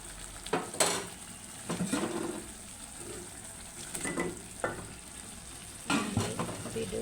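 Fish and vegetables fry in a pan with cumin and coriander spice paste, a steady sizzle broken by repeated scraping strokes of a spoon stirring against the pan, with occasional clinks of utensils.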